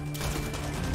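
Gunfire in the video game Far Cry 6, a dense rattling burst of shots packed into a single second, loud and continuous with no talking over it.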